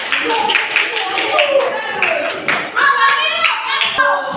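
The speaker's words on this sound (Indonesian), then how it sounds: "Mana tepuk tangannya?" Schoolchildren in a classroom clap their hands together, a steady run of fairly close claps mixed with children's voices and chatter throughout.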